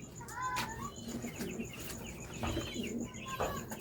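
Racing pigeons at a club derby loft coo and call repeatedly in overlapping bursts, close and fairly loud, with soft chirps from other birds mixed in and a steady outdoor background.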